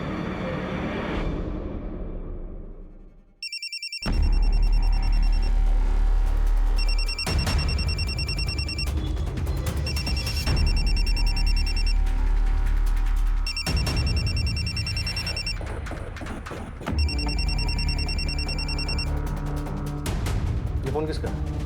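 A telephone bell rings in repeated loud bursts separated by short pauses, following a swell of background music and tense scene audio, with no talking during the rings.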